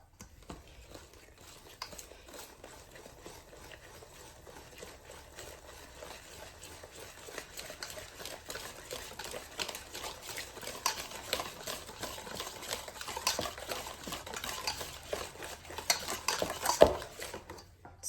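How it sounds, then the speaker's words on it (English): Chocolate cake batter being stirred after half a cup of hot water is added, a steady run of soft scraping and tapping strokes against the bowl that grows busier and louder toward the end, with no talking. "And then I'm just going to continue mixing that in."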